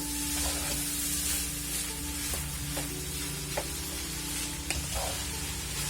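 Jasmine fried rice sizzling and crackling in a hot pan, steady frying hiss broken by a few sharp scraping clicks as it is stirred and mixed, close and continuous.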